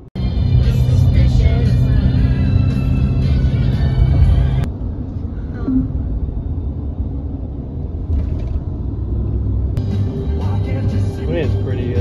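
A vehicle drives a winding mountain road through Grassy Cove in Cumberland County, making a steady low rumble from inside the cabin that drops and shifts partway through, with a person talking over it.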